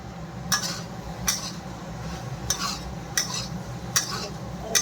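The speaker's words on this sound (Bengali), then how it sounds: "দিয়ে এখন এটা ভালো করে মিলিয়ে নিই।" Cauliflower and potato curry being mixed with spices in a pan, with five sharp, evenly spaced spoon clinks and scrapes over a low, steady background and no voices.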